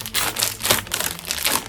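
Crinkly plastic wrapper of a collectible blind pack being torn open, a steady run of close, loud crackling and crumpling, souvenir from the Night of Dark Arts at Hogwarts, Universal Studios London.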